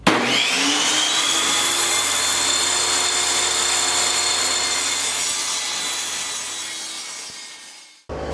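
Power saw ripping wooden boards into 5.5-inch strips, a loud continuous whining cut that slowly winds down, stops briefly, then restarts at the very end.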